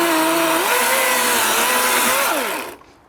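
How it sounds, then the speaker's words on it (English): Battery-powered chainsaw cutting a fresh spot on a log while spoon carving by a campfire, a loud steady motor whine that shifts pitch as the blade bites, then winds down and stops near the end. "A lot of people are going to wonder why I'm using a battery-powered saw"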